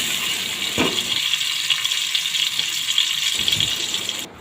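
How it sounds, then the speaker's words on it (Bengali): Garlic and chopped onion stirred in a frying pan for beef liver bhuna give a steady close sizzle, with a few brief scraping clinks of the spoon against the pan and no voices. "হাফ কাপ রসুন দিয়ে দিলাম দিয়ে হালকা একটু নাড়াচাড়া করে দিচ্ছি"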